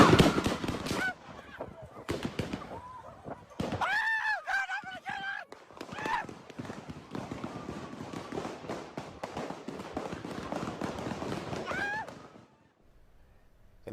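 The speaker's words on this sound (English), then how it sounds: "You can even hear the many gunshots fired at the park." Gunfire at a crowded park block party, played back from a news video, comes as many sharp cracks and pops spread through a noisy, echoing scene, with shouting voices and crowd noise all around.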